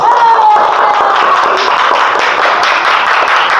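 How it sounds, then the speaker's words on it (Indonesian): A classroom of children clapping hands together in a sustained, dense burst of claps, loud and close, filling the room without a break. "Tepuk tangan untuk kita semua."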